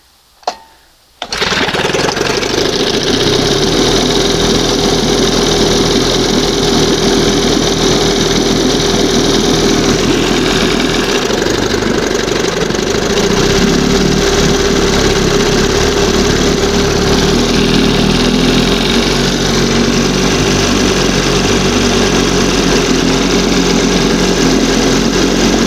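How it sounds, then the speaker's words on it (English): A 1971 Johnson 20hp outboard motor runs at a high idle, a loud, steady buzzing drone heard close and alone. It follows a brief quiet moment and a click at the very start. "Put it in gear and it starts idling high."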